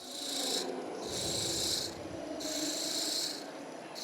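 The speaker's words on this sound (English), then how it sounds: "I'm sticking with a bowl gouge, but only because it's sharper than the spindle gouge I've got there." Wood spinning on a lathe under a bowl gouge, a close, rasping hiss in repeated strokes of about a second each, with brief pauses between passes over a low motor hum.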